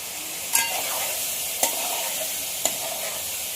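Prawns and taro stems sizzle steadily in a covered pan, with a constant close frying hiss broken by three sharp taps from the lid or spoon at roughly one-second intervals.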